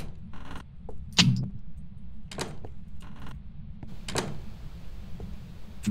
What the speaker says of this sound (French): Pourquoi tu fermes la porte?